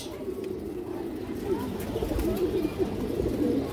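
Soft, repeated coos of Indian high-flyer pigeons in a low murmur over a steady background rumble, close by and moderately loud, with no clear talking.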